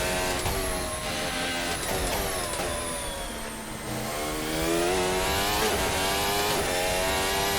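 A Formula Hybrid 2022 car in Assetto Corsa screams as its engine revs and climbs through the gears, a loud, steady whine that dips briefly before rising again.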